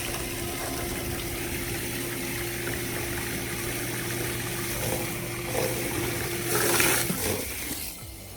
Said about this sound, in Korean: 지금 요게 자동 수중 펌프입니다